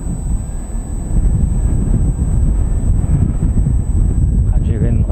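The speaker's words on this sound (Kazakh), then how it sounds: "жел" Steady outdoor wind buffeting a microphone while riding a single-wheel electric unicycle through a city, a continuous loud roar with gusts, no speech over it.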